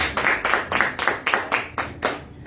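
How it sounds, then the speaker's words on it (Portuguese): Applause from a church congregation at a Portuguese-language evangelical service: steady rhythmic clapping in a run of about nine distinct beats, fairly loud and close, with no voices over it. "Aplausos"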